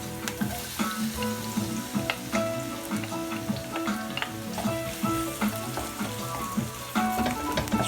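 Garlic fries in a pan for dinuguan, a Filipino pork blood stew, crackling and sizzling loudly and continuously while a utensil stirs and scrapes with frequent clicks.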